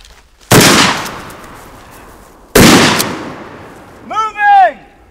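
A pump-action shotgun fired twice during a defensive shooting drill, two loud, close blasts about two seconds apart, each trailing off in a long echo, followed by a brief shouted voice.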